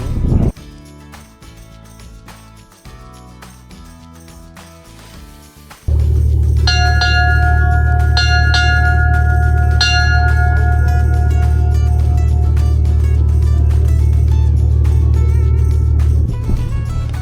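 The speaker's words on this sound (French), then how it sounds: "j'ai sonné la cloche" A ship's bell rung aboard a sailing ship sounds as a few struck metallic tones over a steady, loud, low engine drone that fills the whole stretch, with no talk.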